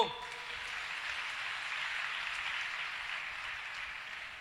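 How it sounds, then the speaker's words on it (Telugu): An audience claps hands together in a steady, sustained round of applause at moderate distance, without a break. "చప్పట్ల కొట్టు"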